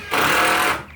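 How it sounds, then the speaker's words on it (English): Power tools run in a barn, a single loud buzzing, rattling burst of about a second that starts abruptly and fades at the end, close by. "You can hear the power tools in the background."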